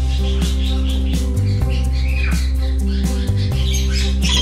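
Squawks from a large parrot-type bird in a bird store ring out repeatedly, loud and close over a steady low hum, with a few short calls in quick succession.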